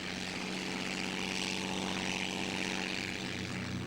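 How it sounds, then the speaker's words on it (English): Replica Dean aeroplane, a First World War-era machine, flying at an air show, giving a steady, loud droning propeller engine hum that holds evenly throughout with no talk over it. "Flying the rather magnificent Dean aeroplane."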